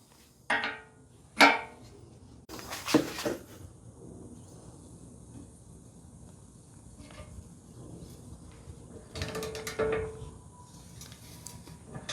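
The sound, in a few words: torque wrench loosening a heated stuck rusty bolt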